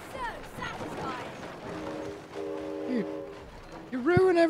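Train in the video game It Takes Two, a rumbling run with sustained horn-like tones in the middle and a sharp whistle near the end, heard under talking.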